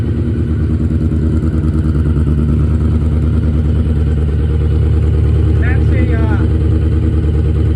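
A Honda CBR F1 Hurricane 600 motorcycle with an add-on factory muffler runs steadily close by, a loud, deep, even engine drone with a shaking rumble that holds throughout.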